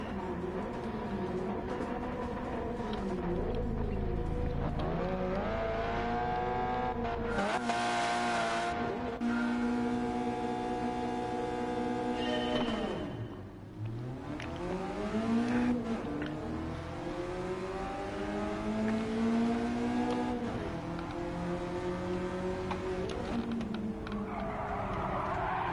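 Mazda Miata race car in a racing video game, its engine droning and revving steadily through gear changes, with pitch rising and falling through corners and a brief sharp burst partway through.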